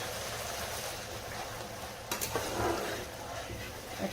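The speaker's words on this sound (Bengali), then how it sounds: "5 মিনিট মতো আরো কষিয়ে নিলাম।" Katla fish curry sautéed in a pan, a steady close sizzle with the scrape of stirring and a brief clatter partway through.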